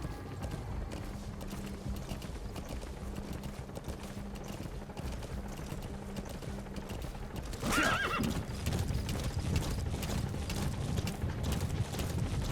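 Steady hoofbeats of a horse trotting in Metal Gear Solid V continue throughout, joined by a loud neigh near the middle, all under a constant electronic game soundtrack.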